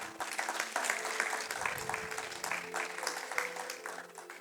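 Church congregation applauding and cheering at a French-speaking service, a steady, dense wash of clapping and cries lasting throughout, fairly distant and moderate in level.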